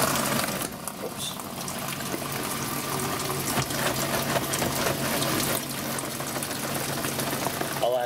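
A Panda spin dryer works through a load of clothes, giving a continuous close whir with rushing, gushing water throughout and a few faint clicks and shifts.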